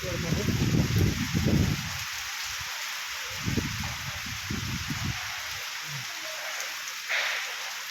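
Constant hiss of heavy rain pouring down, with muffled voices murmuring underneath in places.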